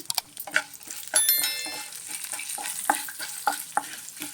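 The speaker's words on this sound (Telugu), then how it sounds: "ఇప్పుడు జీలకర్ర వేసాను, ఆవాలు వేసాను, ఎండుమిరపకాయలు తెచ్చి పెట్టుకున్నాం కదండి, అవి కూడా వేసాను." Cumin, mustard seeds and dried red chillies crackle in hot oil for a tempering, with faint sizzling and scattered small pops and clicks of stirring close by.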